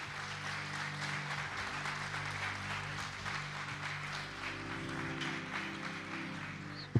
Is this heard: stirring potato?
no